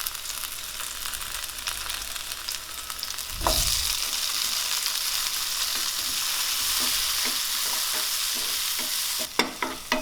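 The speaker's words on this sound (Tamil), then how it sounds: "இப்போ வெங்காயம் ஓரளவுக்கு வதங்கினதும் இதில் கட் பண்ண ஒரு தக்காளியும் சேர்த்துடலாம்." Onion and chopped tomato sauté in a pan for tiffin sambar: a steady, close sizzle that jumps louder when the tomato goes in, with spoon-stirring scrapes near the end and no talking.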